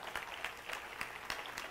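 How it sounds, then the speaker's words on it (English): A small audience claps after a feature speaker, a faint, thin patter of hands with a few sharper individual claps standing out. "Please give a huge round of applause to David Sarita."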